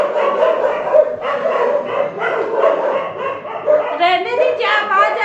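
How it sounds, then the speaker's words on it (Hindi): Dogs bark repeatedly outside a home, yelps and barks mixed with a child's and adults' voices talking over them at close range. "अरे वो कुत्ते हैं ना, किसी को देख के भौंकने लगते हैं।"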